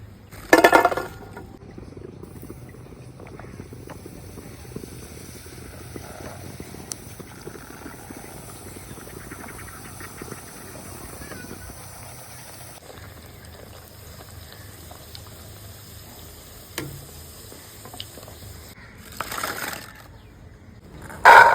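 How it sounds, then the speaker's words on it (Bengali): Fuchka puris puffing up as they fry in hot oil at home give off a faint, steady hiss and gentle bubbling that runs throughout, with a couple of louder knocks at the start and end. "দেখো প্রত্যেকটা ফুচকায় কত সুন্দর ফুলছে এভাবে সব ফুচকাগুলো ভেজে নেব"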